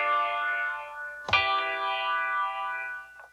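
Sustained synth pad chord triggered from a Launchpad X MIDI controller in BandLab, with effects; a sharp percussive hit lands midway and the tones ring on, then fade out at the end. No talking.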